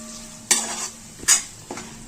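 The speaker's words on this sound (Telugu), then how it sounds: "ఈ జీడిపప్పు పేస్ట్ కూడా పచ్చివాసన పోయేంత వరకు వేయించుకోవాలి" A cashew and ginger-garlic paste fries in a pan for a fish kurma, and a steady low sizzle sits under three sharp, close stirring scrapes spaced about half a second apart.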